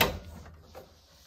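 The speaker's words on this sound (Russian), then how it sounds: "очень громкий звук закрывания двери" The door of an LG MS2042DY microwave oven shuts with a sharp thud at the start, then fades into faint room noise.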